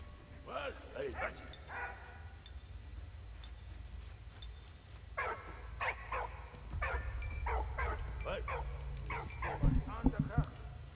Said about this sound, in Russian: Глупая собака, что там